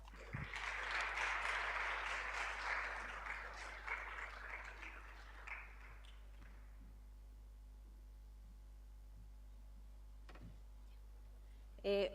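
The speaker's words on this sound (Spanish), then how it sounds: "Un fuerte aplauso para ella." A conference audience claps for a doctor introduced before her talk on antiretroviral therapy: a burst of full-room applause that thins out after about five seconds, leaving a quiet hall with a low electrical hum and a few scattered small noises.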